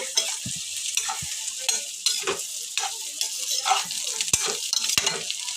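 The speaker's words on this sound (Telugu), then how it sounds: "కాలీఫ్లవరు ఇదైతే బాగా కలుపుకోవాలి" Cauliflower curry with egg is stirred in a pan, the spoon scraping and clinking in irregular strokes over a steady soft sizzle, close and fairly quiet.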